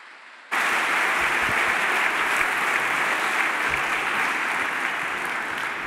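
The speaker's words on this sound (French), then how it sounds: "on peut vous applaudir" Applause fills a hall at a public evening event celebrating scientific research. Dense, sustained clapping begins abruptly and stays loud and steady throughout.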